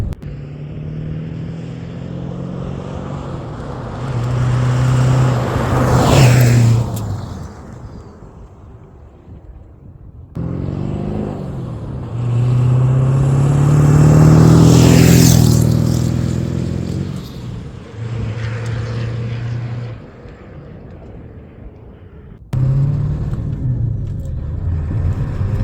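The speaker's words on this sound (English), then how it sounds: "it's noisy when you open it up and drive by" A pickup truck with a 4-inch exhaust drives past several times, each pass a loud rising and fading engine roar with deep exhaust rumble and wind buffeting on the microphone.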